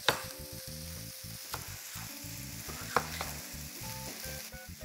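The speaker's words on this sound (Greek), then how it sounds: "έχουμε ένα τηγάνι πάνω στη φωτιά" A frying pan sizzles steadily on the stove during preparation of Mexican chili con carne, with a continuous hiss broken by a few sharp clicks and knocks of stirring, no voices present.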